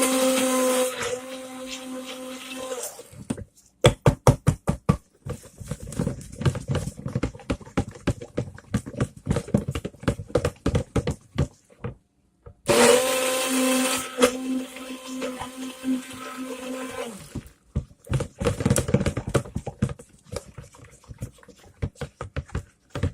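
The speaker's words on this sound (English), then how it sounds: "So I'm just gonna stick blend this up again." A stick blender whirs through thick cold process soap dough being colored and thickened, running in loud multi-second bursts separated by rapid clicking and tapping from the same work, with no talking.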